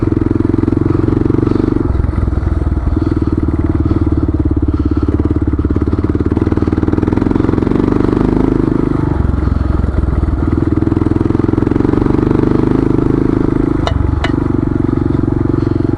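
A KLR motorcycle engine runs loud and close throughout while riding a rough, holey trail, its steady drone dipping and surging with throttle changes, with clatter and thumps from the bumpy ground.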